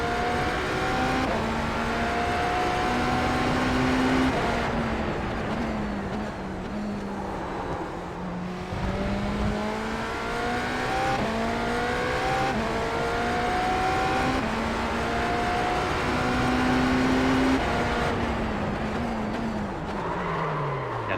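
A race car in an IMSA endurance racing sim at the Montreal circuit drives continuously, its engine note rising and falling through repeated upshifts and downshifts, loud and close throughout with no voices.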